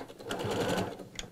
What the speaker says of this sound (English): I'm using 1/4 inch seam allowance and I'm gauging that from the distance from my needle to the edge of my foot